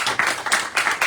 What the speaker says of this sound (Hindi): उनके लिए एक जबरदस्त ताली दीजिए।